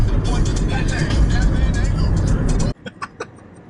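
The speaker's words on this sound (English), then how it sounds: "We're driving from Guaymas to Ciudad Obregón." A car drives along a road in Sonora, Mexico, between Guaymas and Ciudad Obregón, giving a loud, steady rumble of engine and road noise that cuts off abruptly near the end, leaving a few faint knocks.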